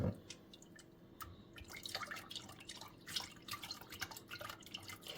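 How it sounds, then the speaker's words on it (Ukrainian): Milk is poured into a custard mixture of starch and salt, a faint liquid trickle with scattered drips and splashes, close and quiet, with no speech. "додаємо сіль для балансу смаків і виливаємо все молоко"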